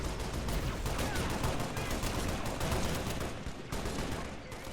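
Rapid plasma weapon fire crackles throughout a Halo mod battle, a dense, continuous fusillade of sharp bursts from multiple weapons, loud and unbroken for several seconds with no voices.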